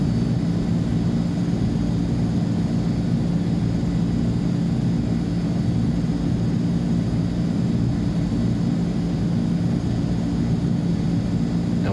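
A C-160 transport aircraft taxiing in Microsoft Flight Simulator 2020 gives a steady, loud engine drone that holds without pause, with no voices.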